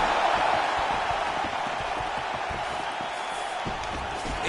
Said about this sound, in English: And you hear the crowd react.